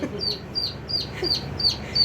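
A hen on a farm gives a series of short, repeated clucks at a steady rhythm, close by and moderately loud over faint background noise.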